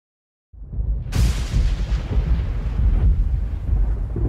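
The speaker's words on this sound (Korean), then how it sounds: "이 천둥 소리는 너무 무서워" A thunder sound effect in a children's audio story sets off a sudden deep rumbling boom after a moment of silence, swelling into a loud crash and rolling on steadily to the end.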